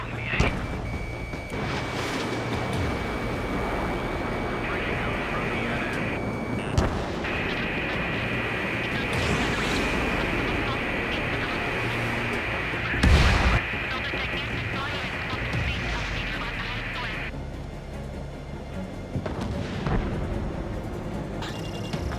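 Enemy gunfire and explosions in the Ace Combat 7 aerial combat game form a dense, continuous roar with scattered bursts and one heavy blast near the middle, while a steady high warning tone runs through much of it.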